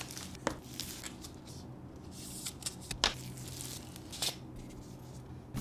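Packaging of a survival ballpoint pen with a built-in whistle being opened, with close crinkling, tearing and rustling of wrapping in short irregular bursts, quiet in between, no voices.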